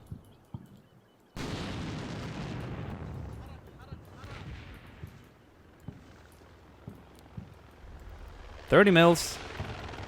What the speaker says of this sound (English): Oh, that is the rockets. The 70 mil or something like that. Pretty nasty rocket pods.